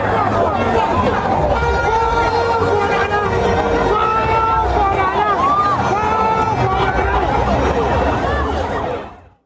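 Noisy crowd milling and jostling in a news scene, a dense continuous hubbub of many overlapping voices and shouts held at a steady loud level throughout before cutting off at the end.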